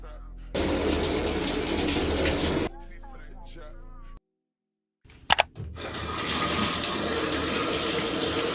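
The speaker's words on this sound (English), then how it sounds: "right now I'm gonna run myself a bath" Water gushes loudly from a tap filling a bathtub in two long bursts, broken by a pause and a few brief clunks before the steady rush resumes.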